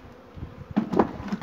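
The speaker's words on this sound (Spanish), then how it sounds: "solamente tiene el enjambre de las abejas y la reina" A swarm of blue bees buzzing around a natural hive with self-built combs, a close, steady insect drone that swells into a louder burst of buzzing partway through.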